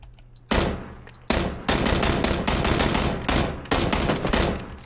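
Automatic gunfire from the PUBG battle royale game, several loud, rapid bursts erupting after a quiet start, broken by brief pauses before firing resumes.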